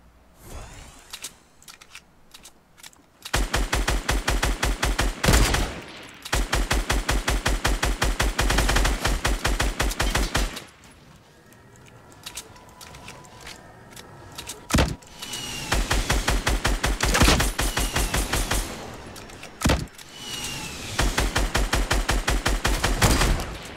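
Gunfire from a Fortnite Battle Royale duo match: long rapid bursts of automatic fire, loud and close, repeating across the clip with short pauses and single shots between bursts.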